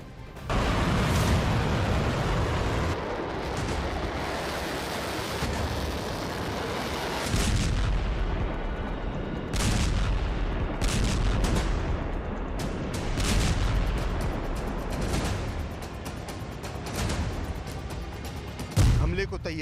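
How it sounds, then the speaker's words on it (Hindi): Hezbollah rockets fired at northern Israel: repeated heavy booms and rumbling blasts, some sharp and some rolling, sounding across the whole stretch with voices faintly mixed in. "हिजबुल्लाह ने इजराइल के उत्तरी इलाके में 100 से ज्यादा रॉकेट दागे हैं"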